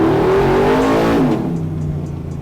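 A cammed 6.0L V8 swapped into an OBS Ford truck revs hard on a dyno, the engine note climbing loud and close, then falling away as the throttle lifts.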